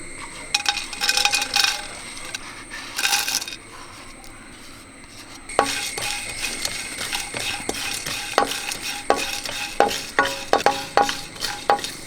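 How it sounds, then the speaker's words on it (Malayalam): Cinnamon sticks dry roasting in a pan for homemade garam masala, first a few bursts of rattling and scraping, then a busy run of sharp clicks and knocks as the pieces are stirred and tossed, close by, with no speech. "നമുക്ക് ഗരം മസാലയ്ക്ക് വേണ്ടിയുള്ള സാധനങ്ങളൊക്കെ ഒന്ന് വറുത്തെടുക്കാം"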